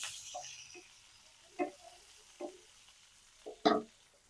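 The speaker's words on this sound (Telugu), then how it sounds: "పచ్చిమిర్చి అల్లం ముక్కలు ఇవి వేయించుకోవాలి దీంట్లోనే మనం టమాటా ముక్కలను కూడా వేసుకొని వేయించుకోవాలి" Green chilies, ginger and tomato pieces fry in a pan, with soft sizzling under a few distinct stirring scrapes and taps spaced across the clip, the last ones louder, no voices.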